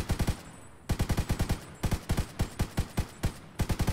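AK-47 from a Minecraft guns mod (Timeless and Classics Guns) firing in rapid bursts of several shots each, loud and punchy, with brief pauses between bursts.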